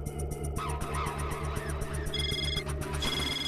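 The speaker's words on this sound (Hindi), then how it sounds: "तारक का फोन" An electronic telephone ring sounds twice in the second half, high and warbling, over rhythmic background music.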